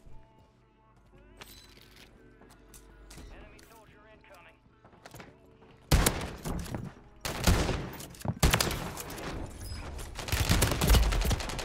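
In a video game, a shotgun fires several loud, sharp blasts in irregular bursts during the second half, after a quieter stretch. Background game sounds and a voice talking can be heard.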